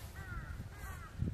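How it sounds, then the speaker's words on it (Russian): Two harsh crow caws ring out a short distance away in the morning, one after the other, over a low rumble of wind. "Вороны эти и утром кричат."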